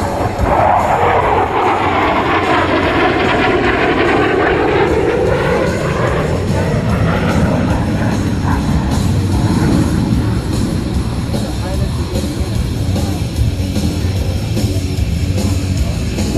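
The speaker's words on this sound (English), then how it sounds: "Watch now from the left, it's the F-16 in the knife edge pass." An F-16 fighter jet flies a knife edge pass at the 2010 Boston-Portsmouth air show, its loud, continuous engine roar sweeping past with a shifting pitch and filling the whole stretch.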